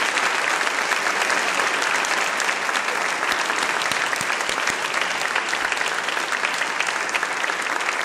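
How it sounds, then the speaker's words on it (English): Steady, dense applause from a large audience at a high school senior awards ceremony, continuous and evenly loud throughout. "I think he deserves your applause."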